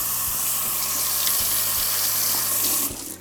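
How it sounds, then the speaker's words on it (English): Hands rinsed under a running kitchen tap while baking pies, a steady close hiss of water hitting the sink with faint splashing shifts, cutting off near the end. "I'll have to wash my hands a second here."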